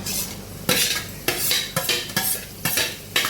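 Wild gaboli greens are stirred into cooked masala in a pan, with a spoon scraping and clattering against the metal in a steady rhythm of about six strokes over a soft sizzle, with no voices.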